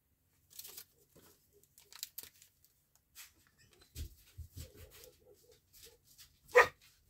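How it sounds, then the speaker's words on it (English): Several dogs bark in short scattered bursts at a car driving past, with a few whimpers and some crinkling nearby; the barks come at moderate distance, one loud bark near the end. "dogs are barking at someone driving by"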